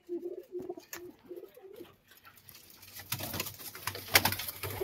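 A pair of Kalanka pigeons coo in short, soft, low phrases close by, followed by rustling and a rising bed of noisy background activity.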